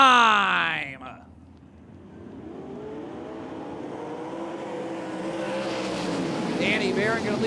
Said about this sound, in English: Danny Barron going to lead the drag race into turn number 1